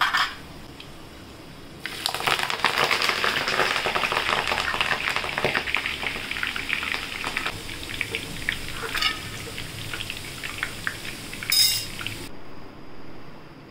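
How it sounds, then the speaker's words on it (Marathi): Steady crackling sizzle of food frying in hot oil, loud and close, running for about ten seconds before cutting off. "आपण आता तेल तापत ठेवलं आहे, आपण पालक तळून घेऊया।"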